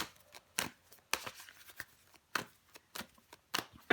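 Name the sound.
tarot cards being handled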